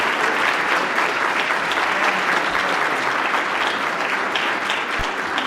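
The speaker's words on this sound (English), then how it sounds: "So everybody, a warm round of applause." An audience at a presentation of the Jeane J. Kirkpatrick Statesmanship Award gives a warm round of applause for the recipients, a dense, loud, even wash of clapping sustained throughout.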